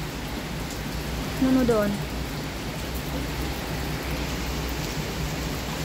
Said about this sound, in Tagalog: napakalakas ng ulan sa Hong Kong